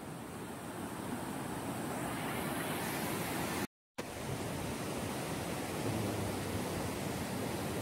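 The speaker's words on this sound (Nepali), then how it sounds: "खोला पनि ठुलो रहेछ है, र अलिक बगुवा रहेछ खोला चाहिँ।" A large, fast-flowing hill river rushes near a bridge crossing with a loud, steady roar that fills the whole time apart from one brief dropout.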